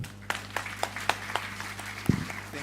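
Applause from a conference audience after a keynote on ethnopharmacology: a short scatter of separate claps, fairly sparse and moderately near, with a brief low thump toward the end.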